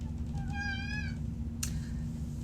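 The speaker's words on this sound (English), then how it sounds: "Let me let this cat out." An indoor cat wanting to be let out gives one clear, drawn-out meow up close, followed by a short sharp click over a steady low room hum.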